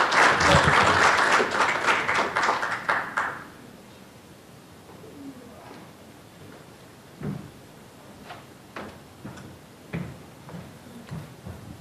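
Audience applause at a dental health value-based care conference session, dense and loud as the speaker is welcomed, fading after about three seconds into quieter scattered taps and room noise.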